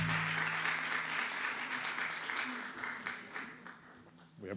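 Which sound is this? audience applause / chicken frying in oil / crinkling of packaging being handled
audience applause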